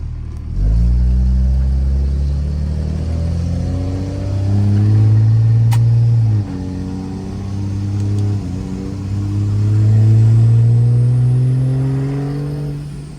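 A tow-style street truck's engine pulls hard through the gears, its pitch climbing steadily in loud, close sweeps, with a gear change dropping the revs mid-run before it winds up again under a faint turbo whistle.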